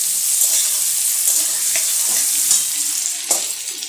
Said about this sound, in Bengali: 2 থেকে 3 মিনিট ভাজবো।